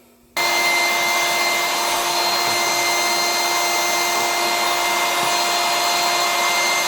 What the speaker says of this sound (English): pumping up air with a machine is a lot quicker than hand pumping it